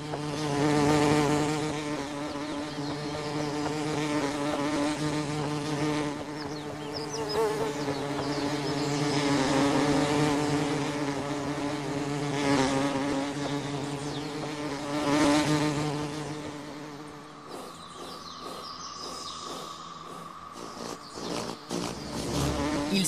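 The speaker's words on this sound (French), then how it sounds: "En revanche, ils reculent devant les abeilles et les guêpes." Bees and wasps buzz around flowers, a dense, continuous drone of insect wings swelling and fading over the whole stretch, with several insects close by.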